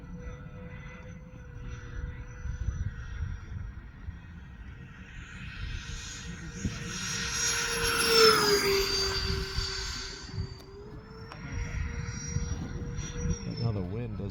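A Freewing A-10 RC jet fitted with an E-flite EDF makes a low pass, its ducted-fan whine swelling to a loud peak mid-clip with a pitch drop, then fading, over steady wind noise.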